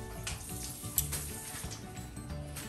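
Dynamite lumpia, chili-stuffed spring rolls, going into oil that is not yet very hot, giving a light crackling sizzle with some wet handling noises close by.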